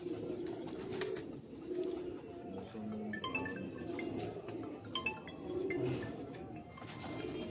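Pigeons of a prized racing breed coo softly on a rooftop loft in Faisalabad, low repeated calls layered over a steady murmur of nearby birds and background activity.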